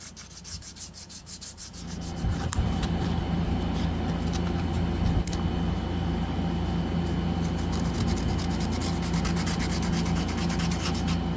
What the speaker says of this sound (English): finish it out, blend everything in with hand sanding with 220 up to